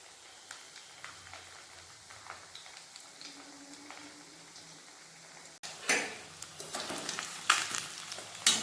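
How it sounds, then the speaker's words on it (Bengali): Chicken pakoras deep frying in oil over low gas, first a soft, quiet bubbling crackle, then an abrupt jump to a much louder, busier sizzle with sharp pops and spatters. "সবগুলো এইভাবে ভালোভাবে আস্তে আস্তে গ্যাস কমিয়ে ভেজে নেব"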